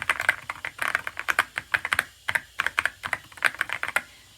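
Typing on a YUNZII X98 wireless mechanical gaming keyboard with transparent keycaps, a fast, uneven run of crisp clicky keystrokes close to the mic, with dozens of sharp taps and brief pauses and no voices.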